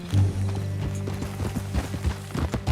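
Horse hooves clip-clopping in a quick galloping rhythm in Red Dead Redemption 2, steady and fairly close, with faint game sounds and no talk over them.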